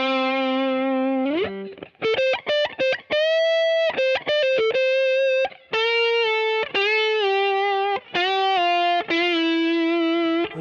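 A heavily distorted Gibson Memphis Larry Carlton ES-335 electric guitar plays a quick series of sustained notes and bends, loud and close, with no voices.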